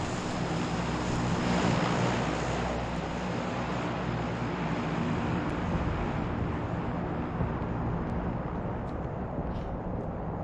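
A propeller airplane's engine roars steadily in the PUBG video game, loud and droning without a break and slightly heavier at the start, with no voices present.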